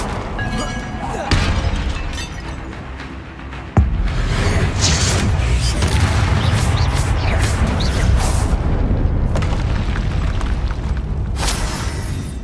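Bombarda and Confringo spell blasts in the Hogwarts Legacy video game, a sustained roar of loud booming explosions and crackling debris, dense and continuous, with a sharp impact near the start and character shouts mixed in.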